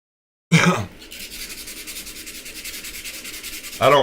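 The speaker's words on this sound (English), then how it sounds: "hand sanding is the best option at this point" Steady back-and-forth rasp of sandpaper rubbed by hand over metal, a rhythmic scratching stroke after stroke, close up, with sharper scrapes at the start and end.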